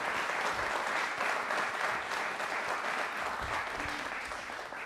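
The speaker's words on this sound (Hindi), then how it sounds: "प्लीज तालियां एक बार जोरदार" Studio audience on a Republic Day special TV quiz show gives sustained, even applause for a guest contestant, dense clapping filling the whole stretch with no talk over it.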